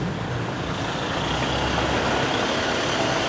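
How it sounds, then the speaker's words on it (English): A car passes close by on a narrow street in Busan, a broad steady roar of engine and tyre noise lasting throughout, with no talk over it. "Oh, be careful, be careful. Car coming."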